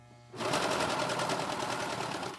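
A serger sewing machine runs steadily along the edge of a flannel washcloth, its rapid even chatter starting abruptly and continuing loud and close without pause, with no talking.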